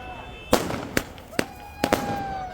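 Celebratory fireworks and firecrackers set off in Baramulla: several sharp cracking bangs at irregular intervals, some doubled, over a hissing background with a faint whistle.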